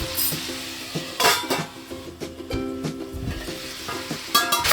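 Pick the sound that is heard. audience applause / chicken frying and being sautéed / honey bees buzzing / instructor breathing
chicken frying and being sautéed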